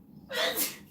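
A single sharp sneeze, sudden and fairly close, bursting out after a brief quiet moment.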